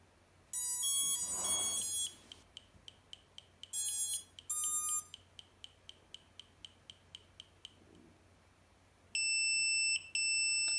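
A Hubsan X4 H123D quadcopter beeps loudly on being plugged in: bursts of shrill, high-pitched tones alternate with a run of short, evenly spaced ticks, ending in another long piercing beep.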